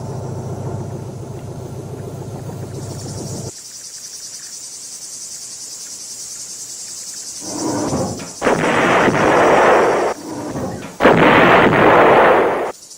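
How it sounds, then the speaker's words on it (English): A 130mm field gun fires amid a battlefield soundscape: a dense rumbling stretch first, then a quieter gap with a high insect-like whine, then several long, loud booming bursts that roll on for seconds, with no speech. "The 130mm field gun had a range of 19 miles, further than any comparable American gun"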